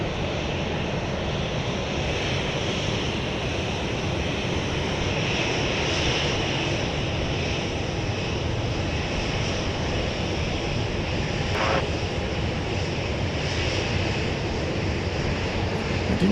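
A Boeing 737-800 airliner at Dallas Love Field taxiing back to the gate, a steady distant jet engine roar with broad rushing noise, constant and unbroken, no voices.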